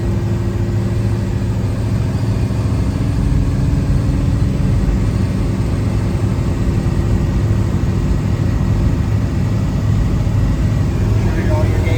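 A Chevrolet Chevelle 300 Deluxe with a 427 V8 drives along, its engine a loud, steady, close droning rumble that fills the whole stretch without a break.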